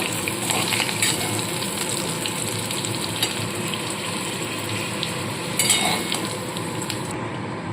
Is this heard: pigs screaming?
no